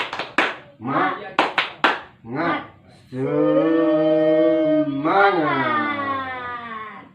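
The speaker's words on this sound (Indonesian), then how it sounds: "Tepuk semangat." A seminar group on preventing violence against children performs the tepuk semangat, a set rhythmic clapping routine: several short bursts of claps alternate with chanted words, followed by a long sustained group call.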